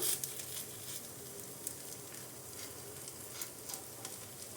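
Moong dal roti cooking in oil on a medium flame: a steady, soft sizzle with faint crackles and occasional small pops, fairly quiet and continuous throughout.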